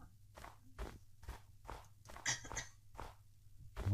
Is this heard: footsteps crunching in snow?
yes